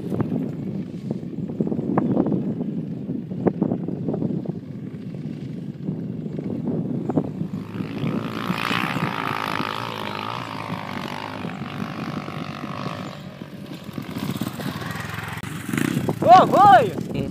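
Honda XR 250 Tornado motorcycle on a dirt trail, its engine rumbling steadily and then revving harder with wind noise, while riders call out over it.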